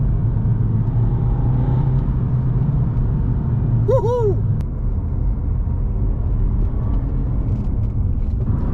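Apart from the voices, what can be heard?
Alfa Romeo turbo diesel car accelerating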